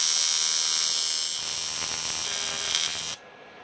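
A Jasic TIG welder runs an arc on aluminium, laying blobs of weld, and gives a steady, loud, close high-pitched buzzing hiss that cuts off abruptly near the end.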